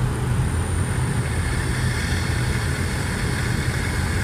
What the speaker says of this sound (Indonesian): Sekarang kita coba lagi apakah sudah berubah speed motor ini